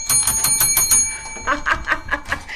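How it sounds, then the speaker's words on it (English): A small bell dings several times in quick succession up close, followed by a few brighter, ringing chimes. "if I can get this bell right"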